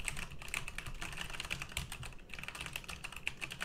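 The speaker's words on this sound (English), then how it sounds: "I wonder if you can hear the keyboard as well." Rapid clicking of computer keyboard keys, typed in quick uneven bursts close to the microphone during an AT2020 versus Shure SM7B mic comparison, with no speech over it.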